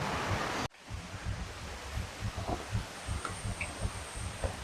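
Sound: waterfall stream flowing

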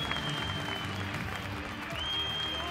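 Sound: audience applause at e-sports final

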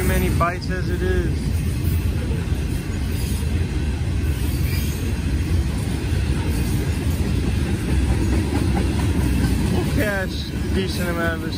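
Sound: freight train passing

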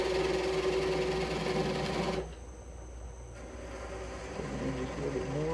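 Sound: wood lathe turning green wood bowl

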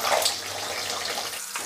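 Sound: potato slices frying in hot oil

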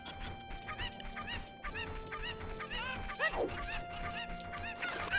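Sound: cuckoos clucking in video game Zelda: Ocarina of Time

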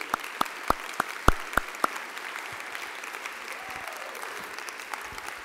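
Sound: applause for the school board

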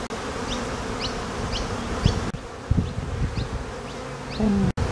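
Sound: honeybees buzzing around a hive frame

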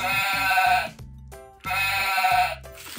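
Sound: sheep bleating

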